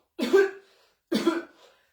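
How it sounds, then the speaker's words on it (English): Two separate coughs, about a second apart, each a sharp burst that trails off, close and clear with silence between. "So when we cough"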